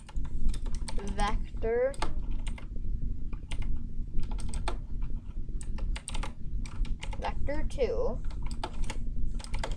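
Code being typed on a computer keyboard for a Unity FPS controller, a steady run of quick clicky keystrokes with short pauses, while someone talks over it now and then.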